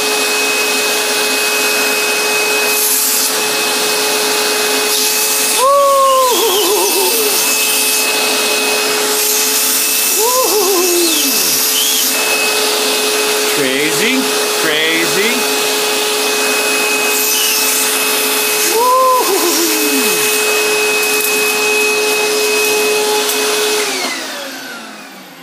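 A vacuum cleaner runs continuously and loudly right beside an African grey parrot. The parrot's short whistling calls cut through the roar several times, and the motor winds down at the very end.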